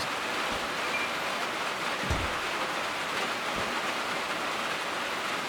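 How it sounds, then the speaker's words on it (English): Heavy rain pours in the train simulator game Derail Valley, a dense steady hiss filling the scene, with a few soft low thumps underneath, constant and fairly loud with no voices. "The rain is quite heavy."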